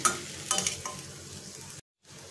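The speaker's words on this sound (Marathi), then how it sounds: "मीठ टाकल्यानंतर आपल्याला 1-2 मिनिटं परतून घ्यायची आहे भाजी" Potato and pea filling sautéing in a pan after salt is added, a soft sizzle under a few quick scraping stirs near the start, then a faint hiss that cuts out briefly before resuming.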